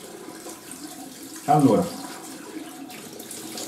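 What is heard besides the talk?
hot water running from a tap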